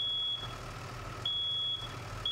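A fire alarm sounds in the firefighting video game Into the Flames, a high steady electronic beep repeating in long pulses over a low engine-like rumble.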